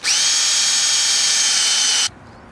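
A power drill whines steadily at high pitch for about two seconds, drilling out the plastic throttle tube end on a 2014 Honda CRF450R, close and loud, then stops suddenly, leaving quiet room noise.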